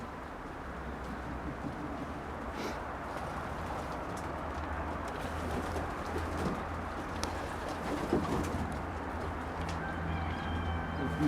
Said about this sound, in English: I'm gonna release the birds now